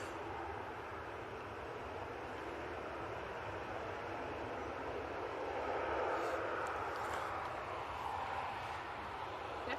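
Airbus A319 jet inbound from Dusseldorf at Manchester Airport, a steady broadband engine roar holding level for the whole stretch and swelling slightly midway, heard at a distance with no talking.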